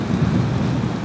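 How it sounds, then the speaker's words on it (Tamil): Heavy rain during a motorcycle ride on a wet road, a loud, dense, continuous roar of downpour and rushing wind with no voices. "நல்லா மழையில் நனைஞ்சிக்கிட்டே தான் ஓட்டிகிட்டு வந்துட்ருக்கோம்"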